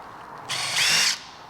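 An electric impact driver loosens tight oil pump screws on a blown Vespa GTS 300 HPE scooter engine, one short loud whirring burst that rises into a harder buzzing rattle before cutting off.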